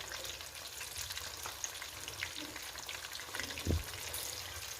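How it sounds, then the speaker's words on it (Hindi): Mutton chops fry in oil in a kadhai with a soft, steady sizzling crackle, fairly quiet and close, with one dull knock near the end. "आपने चापों को इतनी कढ़ाई में बस इतना ही डालकर फ्राई करना है।"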